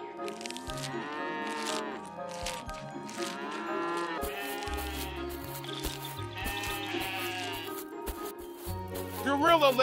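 A cow moos several times in drawn-out, wavering calls, close and clear, while sheep-like bleats and other animal sounds mix in.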